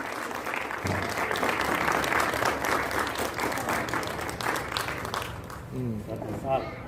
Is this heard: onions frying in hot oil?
no